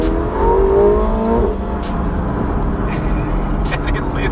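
A McLaren 720S supercar drives at close range, its engine roaring loudly and steadily with a rough rumble and a rise in revs early on.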